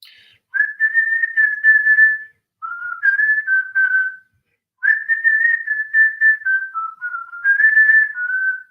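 A person whistles a tune, clear and close, in three melodic phrases of sustained and stepping notes separated by short pauses.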